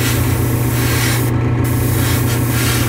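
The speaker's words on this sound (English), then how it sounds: "And I'm gonna spray the whole piece inside and out." A continuous hiss of an airbrush spraying paint on a 1/72 scale model, close and steady, with a brief pause midway before the spray resumes.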